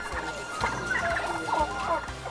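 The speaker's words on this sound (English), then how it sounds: "The stock of the local species of turkeys was also increased." Local turkeys on a poultry farm gobble in repeated, overlapping warbling bursts, fairly close, over a steady background of farm noise.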